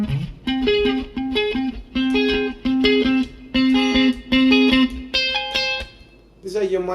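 An electric guitar plays minor sixth intervals across the fretboard, picking paired notes in a steady repeated pattern with a slightly distorted tone, ending with a brief change of note.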